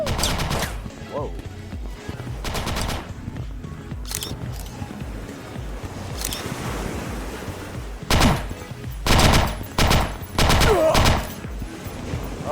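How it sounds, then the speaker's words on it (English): Submachine gun fire in the video game Ctesiphon, with the game's audio mixing off: loud bursts of rapid automatic shots in clusters near the start and again toward the end, over a continuous murky background from an in-game radio. "Oh, this is an SMG. I thought that was a sniper."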